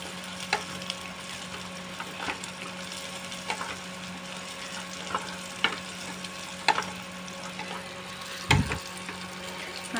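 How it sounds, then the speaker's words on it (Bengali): Cashews and raisins fry in oil with dried chilli, a steady soft sizzle running throughout with a few sharper clatters of stirring scattered across it and one louder scrape near the end. "শুকনো লঙ্কা দিয়ে একটু নাড়াচাড়া করে ওতে কাজু কিশমিশটা দিয়ে দিলাম।"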